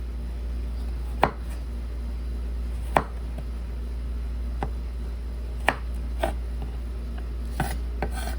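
Knife making thin julienne cuts through flat vegetable pieces on a cutting board, a handful of sharp, irregularly spaced taps over a low steady hum.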